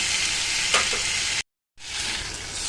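Boiled matar dal lightly fried in a pan gives a continuous close sizzling hiss with a few stirring scrapes, interrupted by a short gap of silence before the frying resumes.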